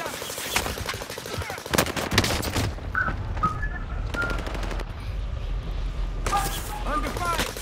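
Rapid automatic gunfire in Call of Duty: Modern Warfare, dense bursts of shots crackling up close with quieter gaps, game effects and tonal chirps around them.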